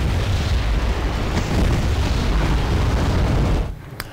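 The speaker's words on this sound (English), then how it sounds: "A few mortars, a couple of mortars here trying to harass the enemy units in the forest" Mortar fire in a war strategy video game, a dense, continuous rumble of blasts and booms that holds loud and steady, then cuts off sharply near the end.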